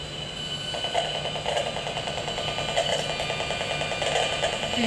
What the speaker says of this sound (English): That's the normal sound for a Wi-Fi router.